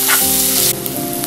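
Ginger garlic paste dropped into a hot pan for fish curry sends up a loud, bright sizzle, briefly surging then settling to a steady hiss, close and alone.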